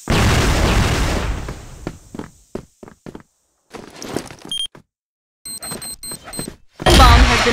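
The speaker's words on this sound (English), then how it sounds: "grenade! Flash bomb!" A flashbang grenade goes off in a video game: a loud broadband blast opens the clip and fades over about a second, scattered thuds and clicks follow, and a second heavy burst hits near the end.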